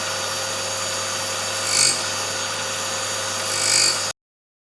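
A drill bit is ground on a universal drill grinder during a rough test run, giving a steady abrasive whir with two brief louder swells of grinding before it cuts off abruptly; no one speaks.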